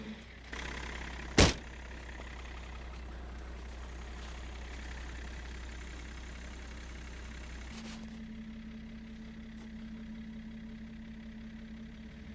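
A BMW X5 diesel engine idles on a cold, damp day just after its first start in over two months. A sharp click comes early, then a steady low rumble that settles into a slightly different tone partway through.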